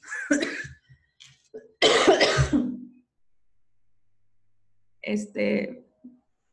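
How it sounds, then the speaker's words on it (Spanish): Several close, harsh coughs with throat clearing come in two bursts, separated by a quiet pause, then another short coughing fit. "me dio hasta tos"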